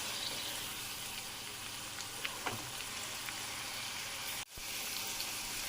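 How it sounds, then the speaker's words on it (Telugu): Broad beans frying lightly in about 150 grams of oil make a faint, even sizzle that fills the clip, with a few soft clicks and a momentary dropout near the end. "ఇలా లైట్గా కొంచెం కలర్ షేడ్ అయిన దాకా వేయించుకున్నామండి"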